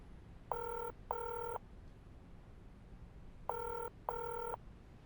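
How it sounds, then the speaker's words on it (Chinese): A telephone ringing out on an unanswered call: two paired electronic trills, a pause, then another pair, clean and evenly spaced over faint background hiss. "我打电话提醒他。"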